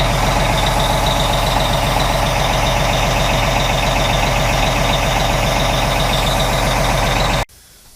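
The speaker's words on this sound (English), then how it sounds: "I think you can probably hear the air blowing" Compressed air hissing steadily from a leak on a truck's air system, a constant loud blowing noise with an engine throbbing underneath, cutting off abruptly near the end.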